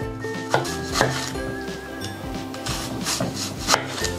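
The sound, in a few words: knife slicing an onion into thin rings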